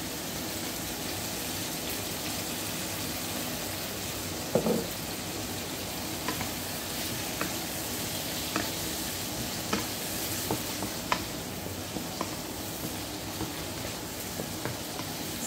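Vegetables sauté in a pan with oyster sauce, giving a steady close sizzle throughout, with light scattered clicks and scrapes of stirring and one sharper knock near the middle.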